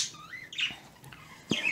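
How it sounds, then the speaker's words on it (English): Pet birds chatter indoors with a few squawks and chirps in short bursts, moderately close and fairly faint, with no talking. "These birds are talky-talky."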